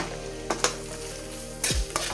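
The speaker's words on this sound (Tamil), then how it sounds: "வெங்காயத்தை கூட 2 இதழ் கருவேப்பிலை போட்டு நல்லா கிளறணும்." Onions and curry leaves stirring as they fry in a pan, with a steady close sizzle broken by a few sharp scrapes of the spoon against the pan.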